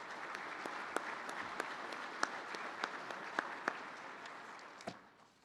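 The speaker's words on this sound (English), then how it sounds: "So let's give them one more round of applause for joining us today." Applause from an audience at a Michigan Farm Bureau live-streamed meeting, a sustained crowd clapping with distinct individual claps standing out, moderately loud and fading at the end, no speech.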